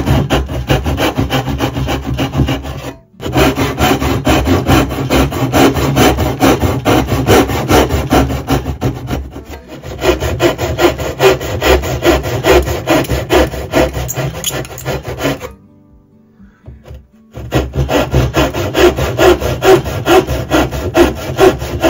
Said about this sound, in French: je reprends la scie à queue d'aronde